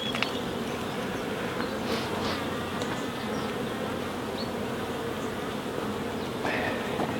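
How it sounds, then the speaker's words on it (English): A dense, continuous buzz of many honeybees in an open hive, steady and loud with no pauses. "There's a lot of bees in here."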